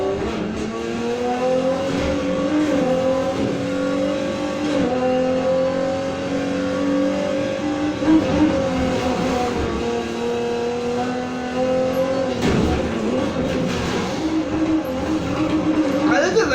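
Polestar 1 '20 in the racing game Need for Speed Heat, its engine and exhaust droning steadily throughout with shifting pitch as it revs up and eases off, a continuous near motor note with no talk.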